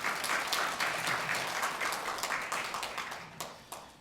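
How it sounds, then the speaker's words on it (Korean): An audience at a university results-sharing event breaks into applause, a dense patter of clapping that stays even and then thins out toward the end, with no talk over it. "다 같이 한번 박수 한번"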